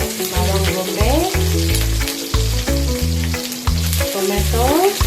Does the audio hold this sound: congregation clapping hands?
no